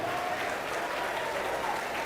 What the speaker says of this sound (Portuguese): Aplaude, aplaude, aplaude e glorifique